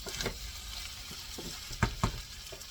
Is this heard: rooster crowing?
no